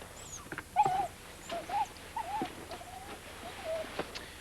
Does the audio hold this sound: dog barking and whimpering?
yes